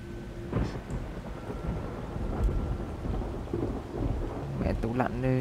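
Heavy rain pours outside in Resident Evil 3 Remake, a steady dense hiss broken by loud, deep rolls of thunder that swell and fade across the scene.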